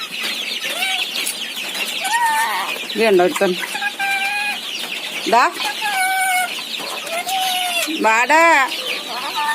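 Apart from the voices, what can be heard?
young chickens clucking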